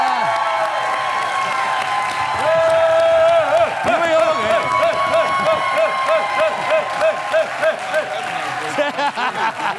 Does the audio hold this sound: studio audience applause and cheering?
yes